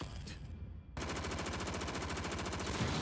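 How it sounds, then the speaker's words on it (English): Rapid automatic gunfire in the One Punch Man anime, Season 2 Episode 11, a dense sustained burst of shots that starts abruptly after a short quieter stretch and continues loudly to the end. "That's a lot of shots."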